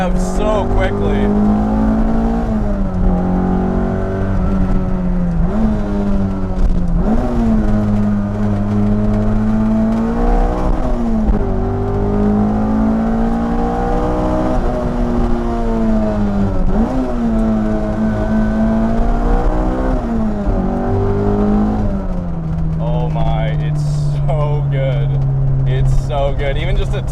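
K-swapped Honda S2000 engine revving hard under acceleration, a loud close-up engine note that climbs and drops through repeated gear pulls for nearly half a minute without a break.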